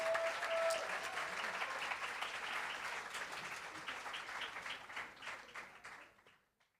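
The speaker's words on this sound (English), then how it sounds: "let us give them a proper welcome with a resounding round of applause." A crowd at a national awards ceremony gives sustained applause to welcome an all-male band, a dense wash of clapping that holds steady and then fades out near the end.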